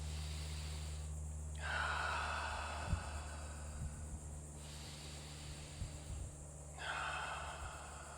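Slow, deep yoga breaths drawn in and let out close to the microphone, with two long airy exhales several seconds apart over a steady low hum, and no talking.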